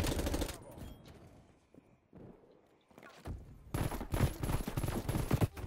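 Grav rifle gunfire in the video game Black Ops Cold War, with dense rapid bursts of shots at the start and again toward the end, loud and close, separated by a quieter gap.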